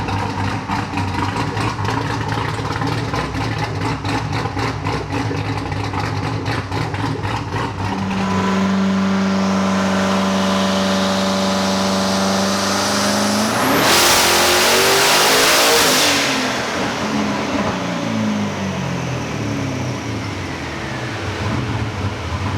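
A twin-turbo Pontiac G8 GXP pulls hard on a dyno, its engine note climbing steadily through a long, loud full-throttle run before a whooshing turbo release and a lower, fading roar.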